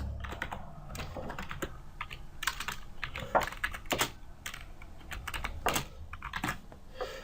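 Java code typed on a computer keyboard, a close, busy run of uneven key clicks and clacks in quick bursts with short pauses, no voice over it.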